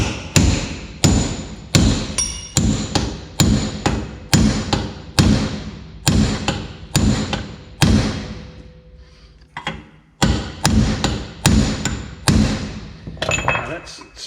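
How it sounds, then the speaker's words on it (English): A steel drift is hammered to crimp the corners of 8mm tubing for a 1920s convertible top, giving a steady run of sharp, loud metallic blows in quick rhythm, a brief pause near the middle, then more strikes, close and clear. "I'm going to use that as my drift, and I'm just going to drive it back down and crimp the corners in."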